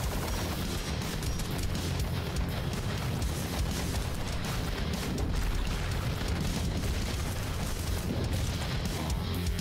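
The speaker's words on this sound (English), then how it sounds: "Yeah, explosion, I should have known." Dense, continuous blasts and booming explosions from the run-and-gun video game Iron Meat fill the whole stretch, loud and chaotic without letup, no talking.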